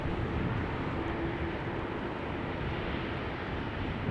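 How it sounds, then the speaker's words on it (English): Steady broadband jet roar from a Singapore Airlines airliner approaching Amsterdam Schiphol, a continuous distant rumble holding level throughout without talk. "Singapore Airlines is coming this way."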